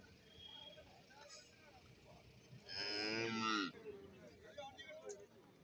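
Cattle and calves at a buffalo market: one loud, drawn-out moo close by, with softer calls and market bustle behind it and quiet talk around.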